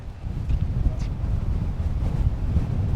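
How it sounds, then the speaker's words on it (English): Strong wind buffets the microphone with a steady low roar, mixed with surf and choppy sea water in the background at Point Reyes, California. "Look how choppy these seas are, and really windy"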